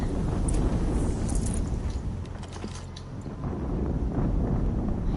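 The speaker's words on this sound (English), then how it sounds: "What are you guys doing over here with all these explosions and stuff?" Rumbling, booming explosions from the video game Horizon Zero Dawn roll on continuously with a heavy low-end roar and scattered crackling bursts, loud and dense for the whole stretch.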